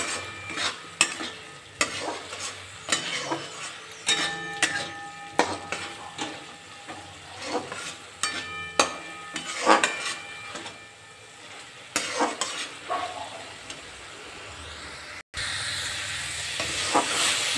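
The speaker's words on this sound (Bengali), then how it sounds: "মশলাটা আমার ভাজা হয়ে গেছে" Spices with a spoonful of red chili powder fry in a pan while being stirred, a low sizzle under repeated sharp scraping and clacking strokes of a spatula, close and rhythmic, with a brief break near the end.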